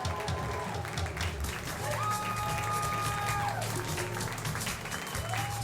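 Audience applause at an evening fashion show held with an international UNESCO conference, dense clapping and some cheering from a crowd, heard under a presenter's voice and background music throughout.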